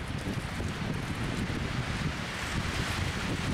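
Steady wind blows outdoors and buffets the microphone with a continuous, even rush of low rumble, with nothing else standing out over it.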